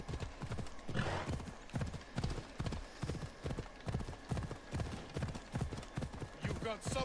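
Horse hooves clip-clop at a steady walking rhythm in the video game Assassin's Creed Odyssey, the horse whinnying once near the start, with faint game ambience behind and a brief voice.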